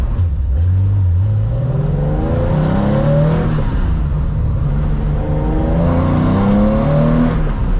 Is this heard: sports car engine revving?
yes